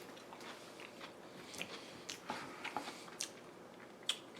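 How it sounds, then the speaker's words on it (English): Someone bites into and chews a Creole deviled egg with lettuce, producing quiet close wet chewing and small soft crunches with a few sharper clicks, no talk. "And then you pick it up and you give it a good eat."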